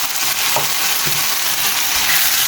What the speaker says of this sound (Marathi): आता घालता आमचे चॉप्ड टोमॅटोज.